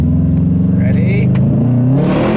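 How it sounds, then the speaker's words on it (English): A Subaru WRX with an external wastegate dumping to atmosphere sounds off on a straight road: a loud engine drone with a rising whoosh and hiss as the gate opens under acceleration, heard close from inside the car. "That's that wastegate opening up! It's so freaking loud!"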